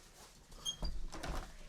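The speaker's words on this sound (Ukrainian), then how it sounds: "Давай, мама, закриє двері." A door is swung shut indoors: a soft creak followed by two quick, muffled thuds as it closes, fairly quiet.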